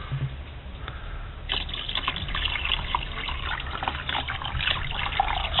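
Water trickles and then pours steadily into a container holding a water and vinegar solution for soaking traps, a continuous close splashing fill that grows fuller partway through.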